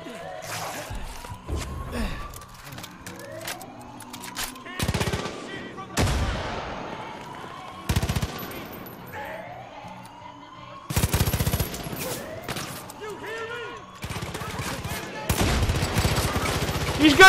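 Sniper and rifle gunfire in Far Cry 5, sharp cracks and bursts spaced irregularly through the fight, some loud and close, mixed with whooshing game effects and occasional gasps.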